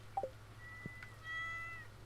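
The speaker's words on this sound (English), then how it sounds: "Oh, poor kitty." A cat in a farming video game gives a couple of short, quiet meows, followed by a faint, thin drawn-out mew over a low background hum.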